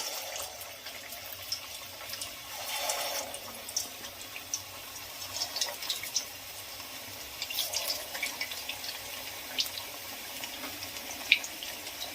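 Labanga latika sweets slipped one at a time into hot white oil in a kadai make a soft, steady frying hiss with faint scattered crackles and pops, without any talk.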